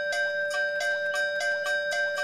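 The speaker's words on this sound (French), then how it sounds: "C'est une sonnette de porte." A doorbell chiming over and over in a quick, even rhythm, bright sustained tones repeating about every third of a second, loud and alone.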